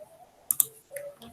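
A computer key is pressed during a quiet workshop session, giving a couple of sharp, close clicks within a second amid faint background sound.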